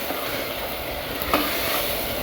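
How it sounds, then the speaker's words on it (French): A spatula stirs spaghetti sauté seasoned with a spice mix in a hot pan, giving a continuous close sizzle and one brief scrape of the utensil, with no voices. "Bien mélanger encore"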